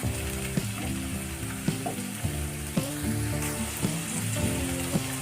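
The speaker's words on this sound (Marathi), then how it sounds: "एक दोन मिनटं कांदा फ्राय करून घ्यायचा व्यवस्थित" Onion fries in oil for a tomato chutney, a dense continuous sizzle close to the mic, broken by regular soft scrapes and taps of a spatula stirring the pan every second or so.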